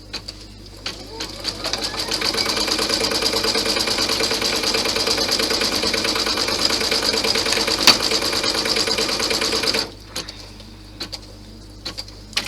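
An embroidery sewing machine with a 4x4 hoop stitches seam placement lines onto stabiliser, a steady rapid mechanical stitching run lasting about ten seconds before stopping, followed by quieter handling sounds.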